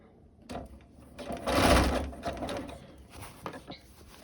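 A sewing machine stitching a shirred elastic summer dress runs in uneven bursts, rising to a louder stretch in the middle before easing off into lighter, intermittent stitching close by.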